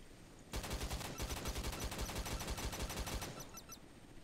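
A ship's cannon in the video game Modern Warships fires rapid, steady gunfire-like blasts in a dense rhythmic volley for about three seconds, loud and close, then cuts off abruptly.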